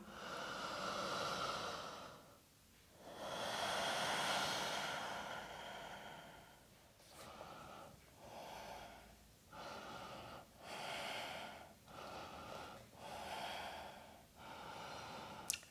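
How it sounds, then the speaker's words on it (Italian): Slow, deep breaths through the nose during a yoga practice, each long inhale and exhale a soft airy rush, repeated in a calm, even rhythm with no talking. "3 respiri da ora."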